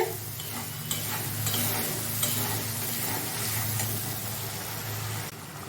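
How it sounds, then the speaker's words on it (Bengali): Spiced chicken and potato kofta masala is sautéed in a pan, giving a dense continuous sizzle with soft scraping from stirring and a brief clatter at the end. No one talks. "এটাকে একটু কষাবো"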